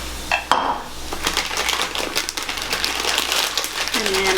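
A plastic bag crinkles and rustles loudly up close while topping is sprinkled onto mini pizzas, with irregular crackling bursts and a light clatter, and a voice talking over it.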